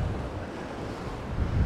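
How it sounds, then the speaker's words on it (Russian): Sea waves washing onto a sandy shore at Vityazevo near Anapa, a continuous low rushing surf mixed with wind buffeting the microphone, swelling slightly louder at the end, no voices. "через одну там 2-3 волны прям очень сильно выносит на берег"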